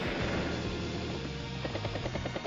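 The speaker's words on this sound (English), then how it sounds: "Helicopter heading to the center." A helicopter unit in Advance Wars: Days of Ruin flies with a steady, dense rotor drone that holds at an even loudness for a couple of seconds, with no voices.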